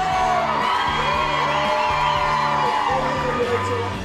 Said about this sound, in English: They're screaming, they're going mad for him.